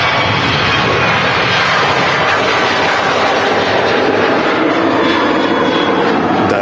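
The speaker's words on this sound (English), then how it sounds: "The noise from the engines has improved." Aircraft jet engines roar steadily at Manchester Airport, a loud, continuous broadband rumble that holds for several seconds with no talk over it.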